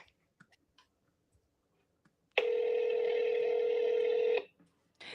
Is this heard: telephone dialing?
yes